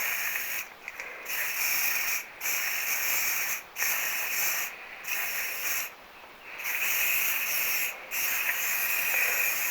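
A steady hissing spray of silicone lubricant onto a car's blinker switch runs in long bursts broken by brief pauses, loud and close, with no voices.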